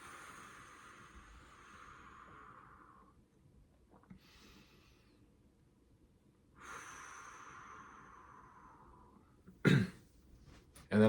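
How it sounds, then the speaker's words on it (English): A long, soft breath pushed out through partly closed lips, part of a calm breathing exercise. It comes twice as faint airy whooshes that fade out slowly, with quiet pauses between them and no talking. "take a inhale through your nose, and then a long exhale through your mouth with your lips partially closed"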